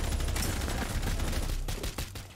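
AK-47 automatic fire in Rainbow Six Siege, a dense continuous burst of rapid shots that stays loud throughout, with a few sharper cracks near the end.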